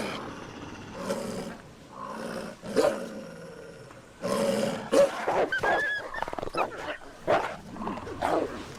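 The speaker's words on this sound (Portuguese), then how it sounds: "Os rosnados e dentes à mostra reforçam as posições na matilha." A wolf pack feeding on a kill, snarling and growling in bursts close by. The rough, throaty growls rise and fall in several overlapping waves and grow denser and more agitated toward the end.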